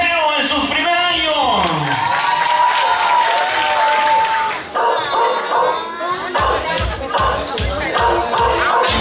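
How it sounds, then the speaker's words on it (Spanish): Crowd at a first birthday party applauding, with cheers, whoops and children's voices mixed in, loud and close, then continuing clapping under excited chatter. "Quiero que me le brinden esos aplausos a Mateo en su primer año."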